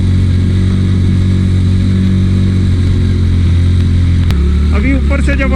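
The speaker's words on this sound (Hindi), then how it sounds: "इधर तकरीबन हर बाइक की चीखें निकलती हैं, ऐसी जगह है" A motorcycle engine labours loudly and continuously while climbing a steep mountain road in Upper Neelum, Sharda Valley, Kashmir, a heavy droning strain with a brief shift near the end.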